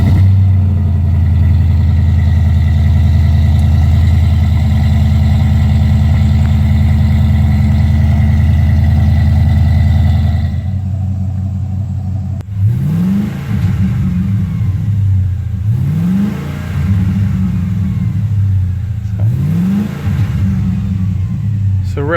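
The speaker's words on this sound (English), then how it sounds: "So revving it still sounds good." Ford F250 gas truck with a 6.2 V8 and Flo Pro Twister exhaust, loud steady idle rumble for about ten seconds, then three rising revs that climb and fall back in a repeating pattern.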